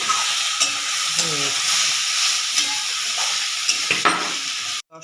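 Vegetables for a five-vegetable curry being stirred in a pan, with a steady frying sizzle and hiss and a few soft scraping strokes throughout, ending abruptly; a voice speaks briefly.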